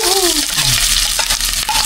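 Onion and ginger sauté in a hot pan with a loud, steady sizzle and frying hiss, broken by a few stirring scrapes, close up and with no talk.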